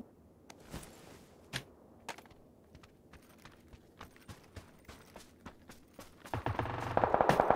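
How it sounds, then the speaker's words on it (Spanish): Gunfire in the battle royale video game PUBG, scattered single shots at first, then a dense, louder rapid burst of automatic fire toward the end, with no talk during the shots. "Acá escuché disparos cerca de mí."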